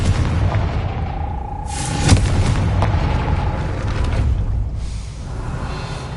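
A Confringo fire spell in Hogwarts Legacy strikes a gate with a single sharp blast, followed by a rumbling echoing tail over a steady low ambient drone.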